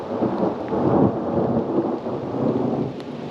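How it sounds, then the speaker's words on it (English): Thunder rolls loud and low through a rainstorm, heard from inside a newly roofed building as a continuous rumbling swell over steady rain for a few seconds. "listen to the thunder and lightning"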